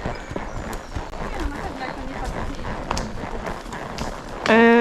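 A horse's hooves clip-clop steadily on the ground at a walking pace on a trail ride, with people talking over the steps.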